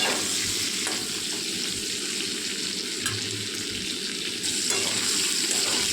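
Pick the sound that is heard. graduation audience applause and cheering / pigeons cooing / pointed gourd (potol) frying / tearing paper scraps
pointed gourd (potol) frying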